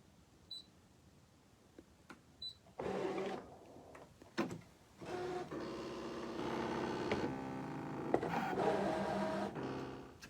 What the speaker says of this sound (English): create a cut that's just inside my drawn marks. And now I will cut.